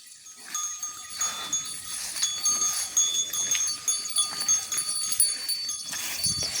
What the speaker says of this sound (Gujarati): ગાયો અત્યારે ચરી રહી છે